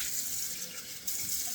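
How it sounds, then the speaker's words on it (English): Water running from a tap and splashed up onto the face to rinse off soap at a sink, a steady close broadband wash that swells louder near the end. "Let me give a couple of splashes to rinse this off."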